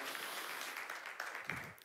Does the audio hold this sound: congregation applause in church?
yes